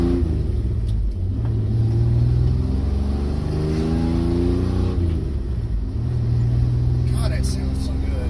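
1985 Chevrolet S10 pickup engine, swapped to a five-speed manual, revving up and down in steady rising and falling sweeps, a rumbling exhaust tone close by with someone talking over it.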